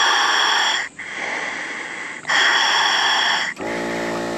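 Two long breaths drawn through a diving hookah regulator from an Aquarobo surface air system, each a loud hissing rush ending in a brief gap, close up, followed by a low motor hum starting.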